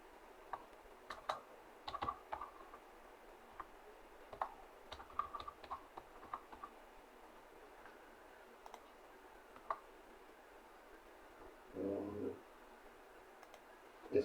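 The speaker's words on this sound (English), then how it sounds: "So let me type the name of this prophet." Soft, scattered keystrokes tap on a keyboard as a name is typed, with irregular bursts of clicks and pauses in a quiet room.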